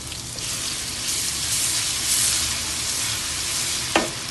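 Steady, close sizzling of chopped garlic frying in hot desi ghee, a continuous crackling hiss with a small clink of a utensil near the end.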